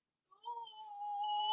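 A pet cat named James gives one sustained, rising meow that swells and holds, close and clear in an otherwise quiet room.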